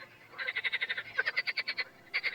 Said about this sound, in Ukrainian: У першій половині травня розпочинають свої концерти ставкові жаби